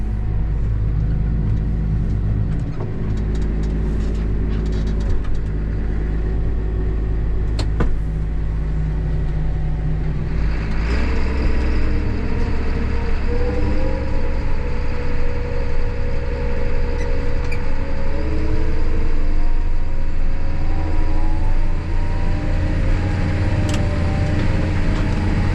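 A John Deere 7920 tractor cruises at about 1,500 RPM and 26 mph while hauling manure, a loud, steady low engine drone with rumbling road noise inside the cab that shifts slightly midway and continues without speech.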